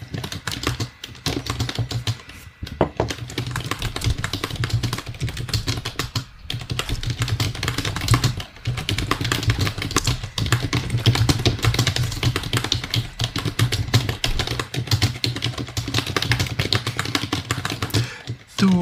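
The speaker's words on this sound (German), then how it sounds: "warum verprügelst du deine Tastatur?" Hard, fast typing on a computer keyboard, a dense, continuous clatter of keystrokes that stays loud and close for the whole stretch, with a low hum underneath and no talk.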